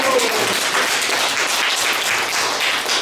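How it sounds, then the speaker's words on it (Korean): Applause from a workshop audience of elder day-care center staff, a dense steady patter of many hands filling the room for the full few seconds without a break. "박수 한번 쳐드려요"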